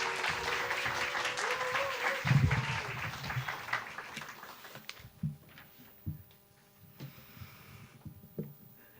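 A church congregation claps in welcome to a preacher, loud and thick at first, then thinning out to a few scattered claps and soft room noises.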